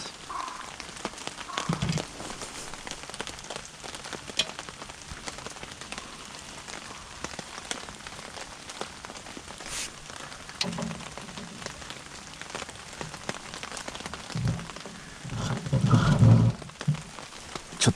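Rain patters steadily on surfaces at a campfire site in Isumi, Chiba, a continuous soft texture with a few louder rustling bursts and thumps near the end as someone moves about.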